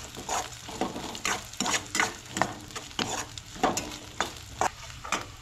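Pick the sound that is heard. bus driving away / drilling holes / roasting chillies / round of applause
roasting chillies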